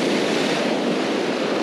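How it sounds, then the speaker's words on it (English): Violent ocean surf on a fishing beach roars as a dense, continuous wash of crashing water, loud and steady with wind buffeting the microphone. "I need to get it out past this part of the waves because that's pretty violent"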